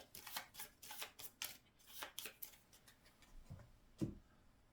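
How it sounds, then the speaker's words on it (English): Playing cards are shuffled for the Skyrim adventure board game on a tabletop, giving a quiet run of quick papery riffles and soft clicks in short bursts, close and with no talk. "Shuffle those."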